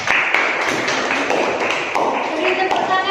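A classroom applauds a student named Kiki, dense patter of many hands clapping steadily for about three seconds, mixed with students' voices talking over it.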